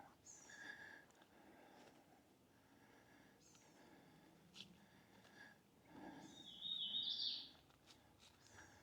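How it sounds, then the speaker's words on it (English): Birds chirp in short, scattered calls along a shady nature trail at Andrew Jackson State Park in Lancaster, South Carolina, faint and fairly distant over quiet background with no talk. "Hear the birds chirping."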